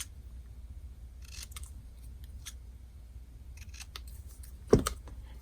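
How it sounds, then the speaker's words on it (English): Quiet snips and crisp paper rustles from scissors trimming a greeting on a handmade card, a few scattered cuts ending in one sharper clack. "We're going to take our scissors and we're going to trim the greeting."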